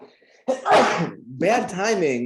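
A single loud sneeze bursts out close by, then someone starts speaking right after it.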